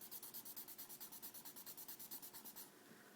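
A 7B graphite drawing pencil lays down tone on paper in quick, even back-and-forth strokes, a soft rhythmic scratching of about twenty close, quiet rubs before it stops.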